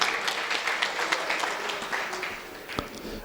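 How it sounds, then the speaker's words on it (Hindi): An audience at a Jain religious gathering, a Siddhachakra Mahamandal Vidhan in Gairatganj, claps for about three seconds, a moderate, slightly distant patter that eases off toward the end. "आपने ताली आनंद को बजाई"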